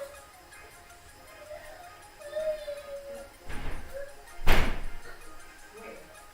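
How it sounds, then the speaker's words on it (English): A household door is pushed shut in a home kitchen while baking cake pops, ending in a sharp, loud slam after a whooshing swing, with faint voices and a dog's whine in the background. "Close the door."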